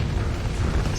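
Space fleets explode in a Starsector cage match between SCC and Knight Chase: a dense, continuous wall of low booms and rumbling blasts that overlap without pause.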